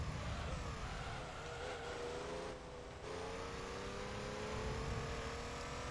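Race car engine at full throttle in Gran Turismo 3, a steady droning roar with gently rising pitch and a brief dip midway, heard alone throughout.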